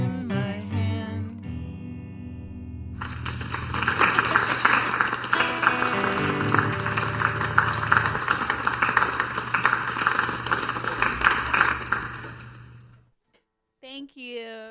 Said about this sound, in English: Thank you so much for the applause